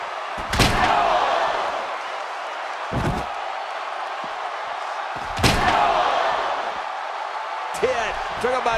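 Pro wrestling Rock Bottom slam onto the ring mat, a heavy thud about half a second in and a second loud impact near five and a half seconds, with commentators talking over arena crowd noise throughout.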